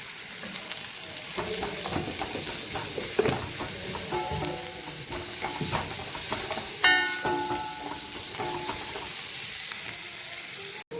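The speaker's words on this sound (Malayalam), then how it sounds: "ഇത് നല്ലോണം ഇറക്കി വാട്ടിയെടുക്കാം." Onions sauté with a pinch of salt in a hot pan on a home stove, giving a soft continuous sizzle broken by scraping stirs and light clinks of a spoon against the pan.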